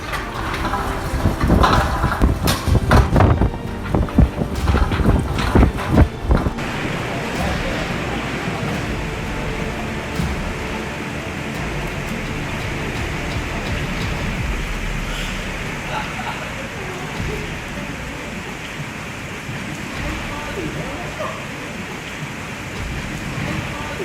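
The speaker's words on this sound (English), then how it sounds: "the sky over Canberra suddenly turned into a stage for heavy hail pounding down" Heavy hail hammers down outside Parliament House in Canberra, a dense, steady roar of impacts that is loudest and most crackling at the start before settling into a constant pounding wash.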